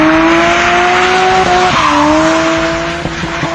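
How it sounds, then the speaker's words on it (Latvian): An animated car engine runs loudly and continuously, its pitch gliding and dipping as the car pulls away, with some squealing and rough mechanical texture and no speech. "Minka, darbini motoru, mums jābēg!"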